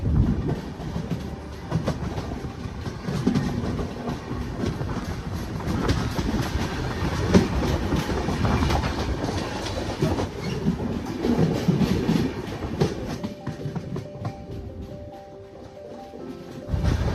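A Mysore–Jaipur superfast train pulls away from Anantapur in the evening, a steady loud rumble with rhythmic clickety-clack of wheels over rail joints running continuously, with no voices.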